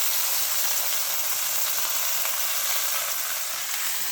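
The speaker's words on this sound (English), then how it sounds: "I guess this is just how you fucking cook plain old beef patties" Plain beef patties fry on a skillet with a steady, close, bright sizzle that holds evenly throughout with no talking.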